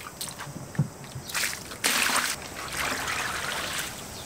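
Water being dumped onto the ground in a backyard where an outdoor pond will go, starting with scattered trickles and splashes, then a loud sudden gush that settles into a steady pouring wash.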